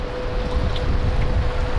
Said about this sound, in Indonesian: Ini mah anginnya lumayan kencang sih tiba-tiba tuh.